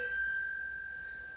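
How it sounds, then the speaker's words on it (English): A ghost-hunting dead bell motion sensor sounds a thin electronic ringing tone, a single sustained ding that fades quietly in an otherwise hushed theatre room. "That was me setting off that dead bell."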